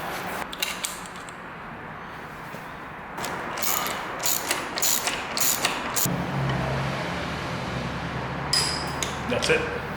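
A 1/4-inch ratchet clicks in quick bursts while tightening Evotech front axle sliders on a motorcycle, close and crisp, with pauses and handling noises between runs.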